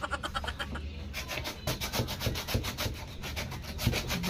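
Repeated rhythmic rubbing and scrubbing strokes on a wooden piece, a fast even series of close, dry scraping passes that continues steadily throughout without voices.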